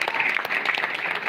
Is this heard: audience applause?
yes